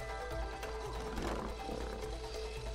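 Lion roaring in It Takes Two: a single rough roar swells near the middle over constant in-game music and a low droning bed, no voices present.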